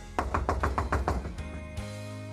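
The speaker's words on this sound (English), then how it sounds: "there's a knock at the door" Five or six firm knocks rap on a door in a British TV soap scene, evenly spaced and close, followed by a brief pause and a low tonal background.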